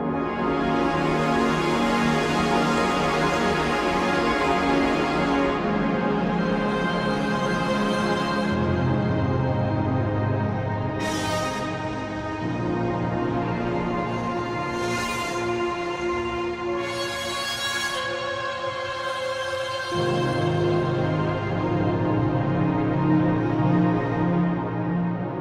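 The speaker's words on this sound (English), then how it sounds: "the first thing you're selected with is Phoenix Rising, the epic swell of cinematic darkness" Omnisphere 2.5 synth preset Phoenix Rising, a dark cinematic swell: dense sustained layered tones that shift in pitch across a steady, loud bed, with brief airy bursts rising above it, no voices.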